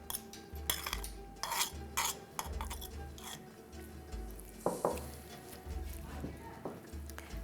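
Oily canned tuna is scraped with a fork into an earthenware clay bowl, producing a run of light metallic clinks and taps against the bowl at close range.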